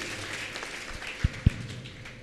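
Faint, even applause from an audience at a spiritual camp assembly, a thin wash of clapping broken by two brief low thumps midway.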